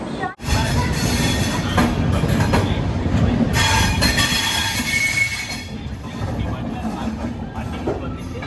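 A train rumbles close by at Vijayawada station, carriages rolling and wheels squealing over a heavy, steady roar that thins slightly toward the end.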